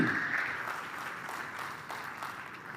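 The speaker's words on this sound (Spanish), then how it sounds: "Yo quisiera que demos un aplauso de bienvenida para cada uno de ellos" A church congregation at a multisite service claps in welcome. The applause is soft and distant, a steady wash of many hands with no voices over it.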